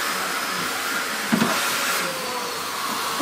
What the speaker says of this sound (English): Can you vacuum me?